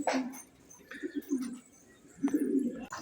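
Pigeons cooing in short low bursts while being bathed in their loft, nearby soft coos with a flutter or splash between calls.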